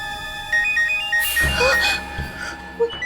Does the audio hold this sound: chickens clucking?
no